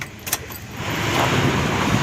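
A Suzuki Dzire diesel car with a timing chain fault is started with the key: a brief jangle and click of the key, then the engine cranks and catches into a steady, rising rumble up close.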